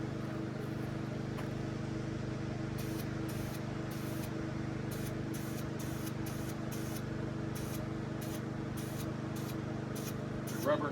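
A spray of rubber coating hisses steadily onto a beam support on a concrete pillar, a continuous close spray with a low motor hum throughout and short pulsed bursts.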